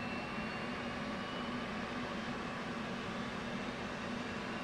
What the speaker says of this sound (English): APU, auxiliary power unit, right click, on. Wait for that to fully spool up and get a green ready light.